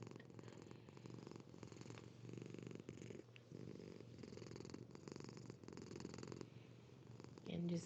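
A pet cat purrs steadily in someone's lap, a soft continuous rumbling that runs unbroken and close throughout.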